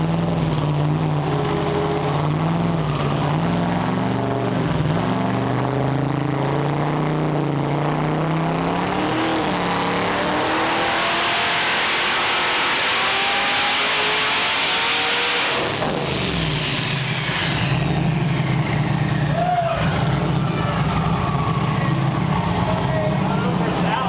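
A twin-turbo 427 car engine on a dyno drones loudly and climbs steadily in pitch through a long full-throttle run, then drops off sharply and settles back to a lower rumble.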